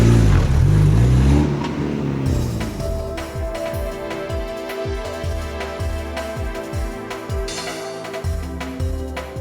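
A Noble M10 sports car engine revs hard and pulls away, its loud, rising note repeatedly swelling through gear changes, up close and continuous with no talking.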